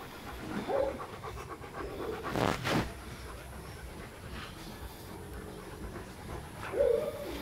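Dogs waiting at the gate of their cages pant in quick soft breaths, quiet and close, with brief whines or yelps and a sharp louder burst partway through.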